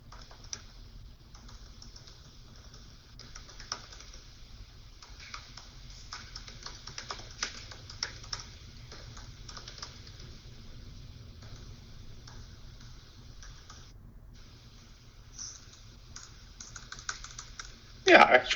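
Computer keyboard typing text into a notebook cell, a run of quick close clicks in uneven bursts with short pauses, fairly soft, over a low background hum.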